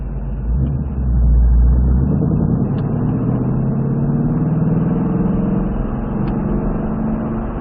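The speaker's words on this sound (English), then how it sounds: "we're just going to kind of roll around the track, not going fast at all, just here to get familiarity with every part of the track" A Ford Mustang Dark Horse rolls slowly around a race track on an orientation lap, its engine a steady low rumble that swells briefly early on and then holds an even, moderate drone throughout.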